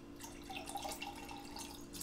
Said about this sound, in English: Good solid siphon. That's siphoning for you guys.